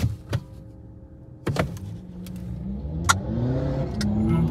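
A tuned Mercedes with four exhausts accelerates at a drag race, its engine note rising in pitch through a steady pull, broken by a few sharp clicks and bursts, close and fairly loud.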